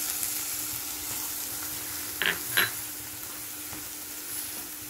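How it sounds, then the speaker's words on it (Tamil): Masala paste frying with golden onions in a pan for a mushroom gravy, giving a constant even sizzle with two quick sharp clicks of the stirring spoon midway. "இந்த வாசனை போகும் வரை கலக்கி விட்டுட்டே இருங்க"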